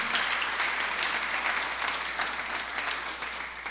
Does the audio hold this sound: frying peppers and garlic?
no